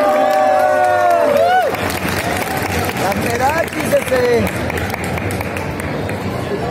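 A crowd at a Concomics Guadalajara 2019 Idol contest awards ceremony claps and cheers for second place, a busy mix of clapping, whoops and voices following a brief loud opening, with talk mixed in.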